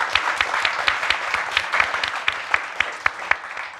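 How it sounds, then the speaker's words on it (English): An audience at a climate justice panel event gives a round of applause, a close, lively patter of many hands with some sharp individual claps standing out, steady throughout and without talk. "round of applause for the audience"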